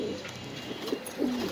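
Imported pigeons at a pigeon farm give low, throaty coos, a couple of close rolling calls over a steady background hum.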